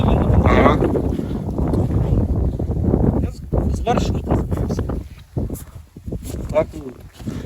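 Wind rumbles and buffets the microphone outdoors on a snowy winter walk while a person talks over it, the gusts swelling and easing.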